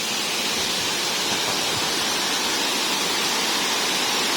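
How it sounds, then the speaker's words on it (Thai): Huai Mae Khamin waterfall in Srinagarind Dam National Park, a steady, dense roar of falling water that fills the scene evenly at close range without a break. "เป็นน้ำตกที่สวยมากเลยครับ"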